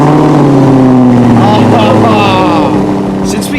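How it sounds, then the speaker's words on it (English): A supercar with a new exhaust fires up from cold, a loud, steady low engine drone with a high idle that settles slightly toward the end, heard close and continuous throughout. "Let's listen to a cold start with the new exhaust."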